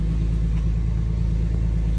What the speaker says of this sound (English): Now let's jump start the car.